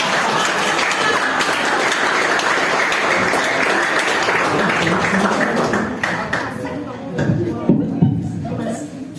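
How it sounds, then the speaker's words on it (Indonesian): A stand-up comedy audience at a Bali show applauds after a comic's set, dense sustained clapping mixed with crowd noise that thins out toward the end as scattered claps and murmuring remain. "Tepuk tangan untuk Putra."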